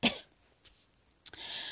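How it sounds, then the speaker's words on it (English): One quiet cough at the start, then a couple of faint throat sounds and soft breathy noise; no talking. "I'm so sorry, I'm coughing."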